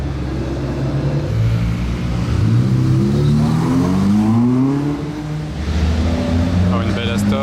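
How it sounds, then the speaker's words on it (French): An Aston Martin DBS passes loudly nearby, its engine note rising and sliding in pitch as it accelerates and drives by, with voices heard underneath. "Une autre belle Aston, une DBS."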